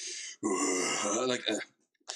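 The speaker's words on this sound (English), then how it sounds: "Even my beer burps are like" A man lets out a drawn-out, voiced burp after drinking beer, a croaking belch of over a second, close and fairly loud, followed by a short pause and another brief vocal sound.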